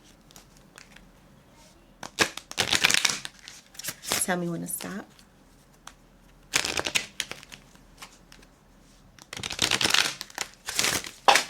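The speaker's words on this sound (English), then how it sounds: "as I shuffle the cards." Tarot cards riffle-shuffled in several brisk bursts, close by, with a person speaking briefly between them.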